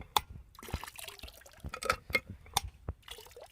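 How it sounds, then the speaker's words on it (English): Water trickles and drips in small irregular bursts from a hand pump whose handle is not releasing properly, a faint close sound with scattered splashes and knocks. "Okay, so I'm getting a little bit of water to come out of here,"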